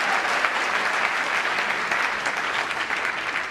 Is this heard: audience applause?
yes